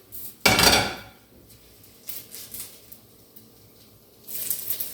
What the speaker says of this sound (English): these pierogies are ready to eat. So we're just going to throw them on a plate.